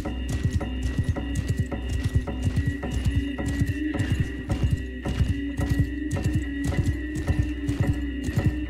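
Horse galloping in the video game Mount & Blade II: Bannerlord, a steady fast clip-clop of hooves with rhythmic thuds continuing throughout, close and prominent over a low constant rumble.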